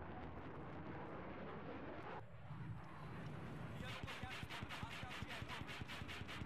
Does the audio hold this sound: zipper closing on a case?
no